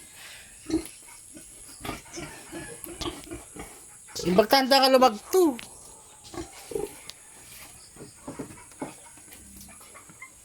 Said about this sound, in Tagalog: Mga baboy sa bahay baboy ng ate ko